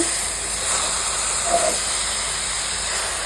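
Onion and rice frying in a pan, a steady loud sizzling hiss that continues without pause through the whole stretch.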